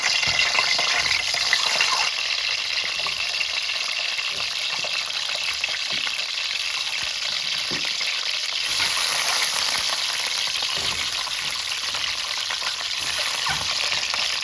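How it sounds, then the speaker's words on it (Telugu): Eggs frying in hot oil in a pan, a loud continuous hiss and crackle that holds steady with slight surges throughout. "ఎగ్స్ దాంట్లోకి కొంచెం ఫ్రై చేసుకున్నాము"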